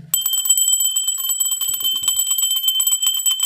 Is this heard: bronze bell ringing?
yes